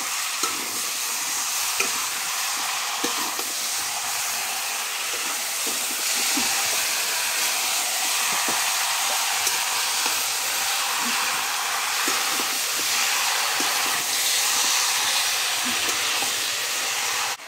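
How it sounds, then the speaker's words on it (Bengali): Fish frying in a pan produces a dense, steady sizzle that stays loud and close throughout, with scattered faint clicks and scrapes beneath it. "তারপর এখানে মাছ ভাজা হচ্ছে।"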